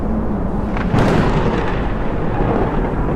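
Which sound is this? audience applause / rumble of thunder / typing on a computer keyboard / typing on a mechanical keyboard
rumble of thunder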